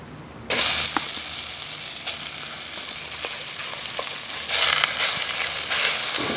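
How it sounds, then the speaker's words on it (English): Sausage meat frying in a little oil in a pan over a campfire outdoors, a steady close crackling sizzle that swells louder near the end, with occasional sharp pops and no talking. "Okay, just a little bit of oil and then the sausage meat."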